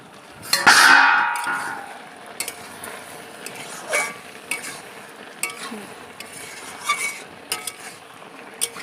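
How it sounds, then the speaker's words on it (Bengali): A spoon stirs a curry cooking in a pan, beginning with a loud hissing burst, then scattered scrapes and light clinks of the utensil against the pan over a soft sizzle, close by. "তরকারিটা হয়ে যাচ্ছে, একবার নাড়িয়ে দিই"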